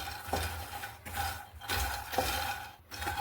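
Makhana, or fox nuts, being roasted crisp in a pan, with soft scraping stirs and light rattling in slow, irregular strokes, faint and close, with no voices.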